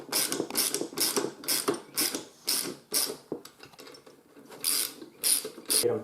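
A ratchet with a 13mm socket tightens a height adjuster bolt on a BCS sickle bar, giving close, crisp bursts of rapid clicking in repeated strokes with short pauses between them.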